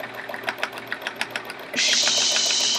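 Domestic sewing machine stitching during free motion quilting of a chevron quilt. A rapid, steady mechanical whir starts partway in and runs on, with faint ticking and soft handling noises before it.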